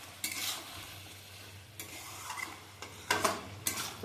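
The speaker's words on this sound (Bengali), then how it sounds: "এই যে চিকেন কষা হচ্ছে" Chicken sautéing in a pan for a home-cooked lunch, a steady oily sizzle broken by several scraping stirs and light clinks of a spoon against the pan, close and alone.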